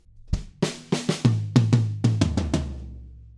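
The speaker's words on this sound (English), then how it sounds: "we use the second variation of the fill" A fast drum fill rolls down across the toms, about a dozen punchy hits with booming low decay, loud and close with no voices.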